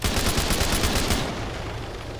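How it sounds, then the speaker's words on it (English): Rapid automatic gunfire in a capture-the-flag video game plays as a loud, continuous burst of shots that eases off into a lingering ringing tail. "Who's shooting?"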